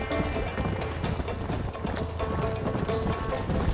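Horse hooves pounding steadily during a race in the Western video game Red Dead Redemption, continuous clip-clop under dense game sound with a faint neigh.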